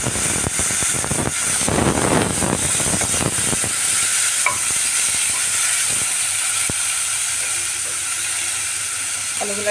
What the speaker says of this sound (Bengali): আলুগুলো একটু লাল লাল করে ভেজে নিচ্ছি।